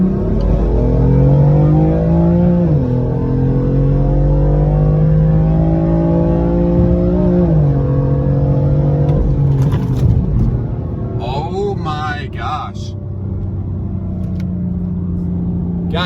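BMW M4 running a stage 0 map pulls hard on the highway, engine note climbing through rising gear pulls with shifts, loud and close from inside the car, then settling into a steady cruise drone.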